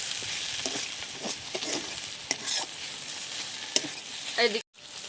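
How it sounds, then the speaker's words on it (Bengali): Fried cabbage curry with cumin powder is stirred in a pan, a steady sizzle under scattered scraping spoon strokes, fairly close and moderate, with a brief cut near the end. "জিরের গুঁড়ো দিয়ে দিচ্ছি জিরের গুঁড়ো দিয়ে হালকা একটু নেড়ে চেড়ে লাবিয়ে নেব"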